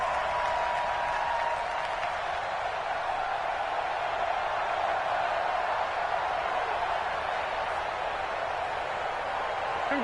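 A stadium crowd in the American football video game Madden 20 cheers with a continuous, broad roar of applause that stays even and fairly distant throughout.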